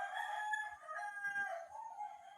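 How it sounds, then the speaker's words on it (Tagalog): Chickens crowing and clucking nearby in a rural setting, with a sustained crow and overlapping calls, fairly faint and with no speech. "Nasaba ng mga manok"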